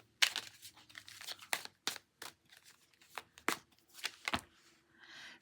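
A mermaid oracle card deck being shuffled, close and quiet: a string of sharp papery riffles and slaps in uneven bursts, with no talk.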